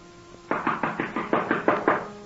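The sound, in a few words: knocking on a door, radio drama sound effect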